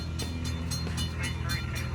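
A westbound CSX coal train approaches near a curved railroad bridge over the Big Sandy, its rumble and rhythmic wheel clatter steady and moderately loud with someone speaking over it.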